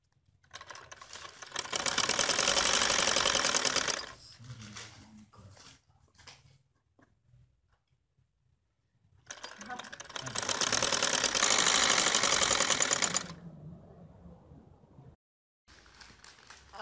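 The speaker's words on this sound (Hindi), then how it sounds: "और अब मैं सिलाई लगाऊंगी।" A sewing machine stitching a linen kameez suit runs in two loud sustained bursts of rapid mechanical whirring, separated by quieter handling noises and pauses.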